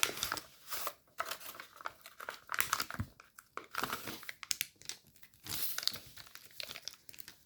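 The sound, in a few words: paper being folded and crinkled for an origami jet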